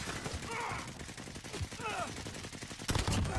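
Rapid automatic gunfire crackles in Call of Duty: Modern Warfare (2019) multiplayer, sustained overlapping bursts of shots with a player talking excitedly over the game audio.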